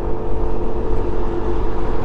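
A lorry rumbles past on a road, a loud, steady low engine drone filling the moment without a clear rise or fall.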